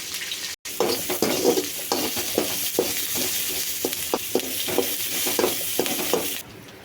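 Big onions fry in a pan with a loud, continuous sizzle, while a spoon scrapes through them in a steady rhythm of repeated stirring strokes, close to the listener.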